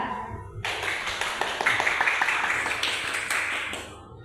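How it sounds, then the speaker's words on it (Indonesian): A room of teachers at a training session bursts into applause that rises quickly, holds as dense clapping for about three seconds, then fades out. "Tepuk tangan buat diri kita sendiri, seorang guru yang kreatif hebat."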